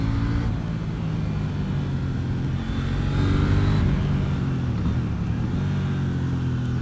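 A 2018 KTM Duke 790 motorcycle pulls hard along an open road, its engine note rising and falling through gears in a steady close roar mixed with wind rush, no talking.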